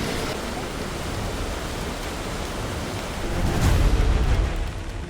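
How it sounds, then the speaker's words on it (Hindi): Torrential monsoon rain in Bhaderwah, Jammu and Kashmir, pours as a loud, dense roar, swelling into a heavier low rumble like thunder partway through before easing slightly. "भद्रवाह में भी सुबह से मूसलाधार बारिश हो रही है।"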